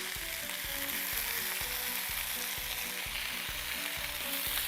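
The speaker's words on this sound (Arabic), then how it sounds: "تاخد تقليبه كده،" Sauce sizzles and fries steadily in a pan with a few bay leaves, a continuous crackling hiss joined by a regular, soft rhythmic pulse of stirring throughout, close and fairly loud with no talking.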